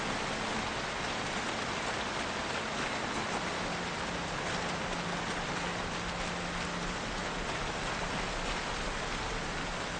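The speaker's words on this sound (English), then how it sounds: "It's just really hard to hear over this really obnoxious rain." Heavy rain falls in the video game Project Zomboid, a dense, unbroken hiss of downpour filling the whole stretch at constant loudness, with a faint low tone underneath.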